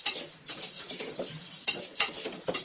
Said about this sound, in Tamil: கொஞ்சம் மீடியம் ஃப்ளேம்லேயே வச்சு லைட்டாக வறுத்துட்டே இருக்கலாம்